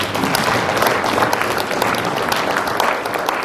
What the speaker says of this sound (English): let's give those captains a round of applause